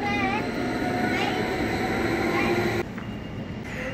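A train at a station rumbles steadily with a loud, continuous mechanical roar and hum that abruptly drops in level near the end, as if the car passes or stops.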